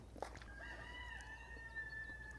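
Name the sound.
rooster crowing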